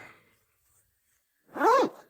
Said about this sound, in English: You can partially unzip this.